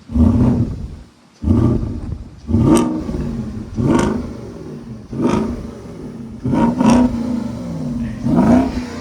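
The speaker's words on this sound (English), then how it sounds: "This is the completely original stock exhaust, and well, this car still sounds like a V8" A V8 engine revs repeatedly through a stock exhaust, each throaty roar rising and falling in a regular rhythm, loud and close.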